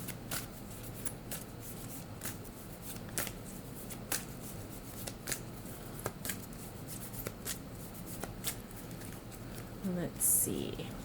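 A deck of color oracle cards is shuffled by hand in a quiet room, giving soft, close, steady riffling with a crisper flutter near the end.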